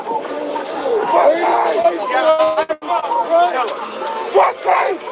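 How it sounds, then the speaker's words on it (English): Dense crowd of protesters at a Minnesota demonstration, a loud continuous babble of many voices with shouts rising and falling, briefly dipping mid-way before swelling again. "There's the crowd right here."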